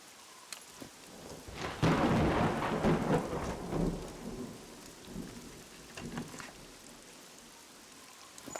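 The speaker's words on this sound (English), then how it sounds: "Love the sound of that rain out there" Rain falls steadily outside in the video game SCUM while a deep thunder rumble swells and fades, then scattered drops and soft patter carry on.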